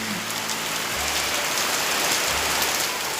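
Steady rain pours down close by, a dense, even hiss of drops striking a surface that holds at a constant level throughout, with no voices.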